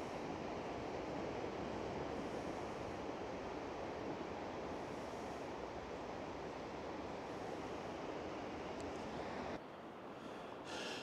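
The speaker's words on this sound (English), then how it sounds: "Just listen to the sound of the sea." Sea waves break along the Blackpool promenade in a continuous, even roar of surf, steady and broad with no pauses, fairly quiet overall, dipping slightly near the end.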